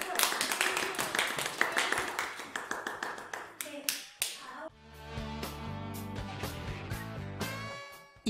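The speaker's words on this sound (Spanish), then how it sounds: "Un aplauso, ¿no?" Young children in a three-year-old preschool class clap in a quick, uneven patter of small hands for a few seconds before music takes over.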